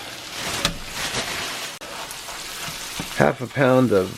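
Half a pound of 90% ground beef sizzles and fries in a cast iron pan, a steady close crackle with short bursts of louder sputtering near the end.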